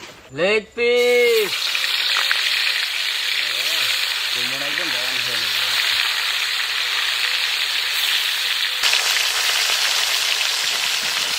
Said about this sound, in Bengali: সেই বিখ্যাত মাছটাকে ভেজে নেব তার জন্য সরিষার তেল